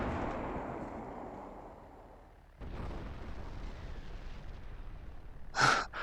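A tank cannon in Garry's Mod ACF tanks fires with a deep boom partway through. A long, fading rumble follows, then a brief breathy sound near the end.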